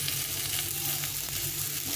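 Close sizzling of potatoes and tomato frying with salt and spices in a pan, a dense continuous crackle without any talk.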